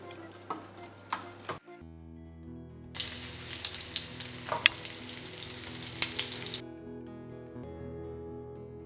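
Onions hit hot oil in a pan with a cinnamon stick, setting off a bright, steady sizzle that runs for several seconds close by before dying down, with a brief clatter beforehand.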